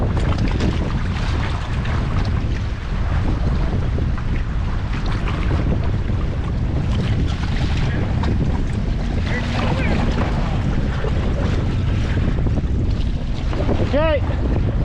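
Personal watercraft, an SX-R 800 and an SXI 750, riding on open water, with steady wind buffeting the microphone and a continuous rushing engine and splash roar throughout, loud and close, with no speech.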